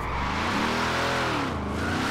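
Ford Mustang drifting in Forza Horizon 4, a steady engine roar with a rising and falling tire squeal sweeping across it, loud and continuous with no talking.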